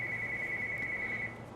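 A telephone rings in a woodcarving workshop, a single steady electronic tone held for just over a second before cutting off.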